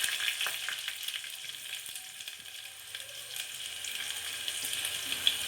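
Onion frying in a tempering of garlic, mustard seeds, cumin and curry leaves, giving a continuous bright sizzle with scattered pops and light stirring, fairly quiet and close, no voices.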